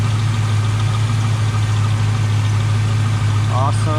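Chevrolet Camaro SS V8 idling steadily with a deep, even rumble throughout, close and loud, with a brief chirp near the end.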